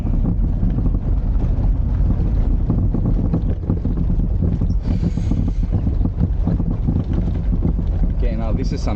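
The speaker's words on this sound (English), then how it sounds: "now this is some serious driving out here. The dirt road is getting worse by the yard actually" A classic Mini car drives along a rough, worsening dirt road in Greece, filling the cabin with a continuous loud rumble, rattles and bumps, and heavy wind buffeting throughout.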